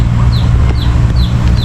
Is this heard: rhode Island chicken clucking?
yes